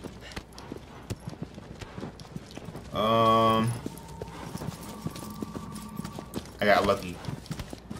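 Horse hooves clip-clop in the video game Shadow of the Colossus, a light rhythmic walking patter under ongoing talk, with a louder burst and a second short flare near the end.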